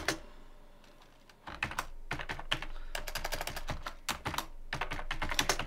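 Close computer keyboard typing during Markdown documentation writing, starting with a few scattered keystrokes and building into fast, dense bursts of clacking keys, with no voices over it.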